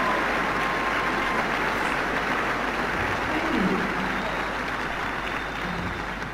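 Steady, dense applause from a large audience greeting a band's lead vocalist, a sustained crowd roar at even volume throughout with no voices on top.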